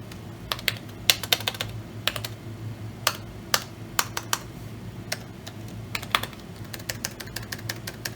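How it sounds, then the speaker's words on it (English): Typing on the keyboard of an Apple PowerBook 3400c laptop, a run of sharp key clicks in irregular bursts over a low steady hum, close and fairly quiet, no talking. "I want to test the keyboard first"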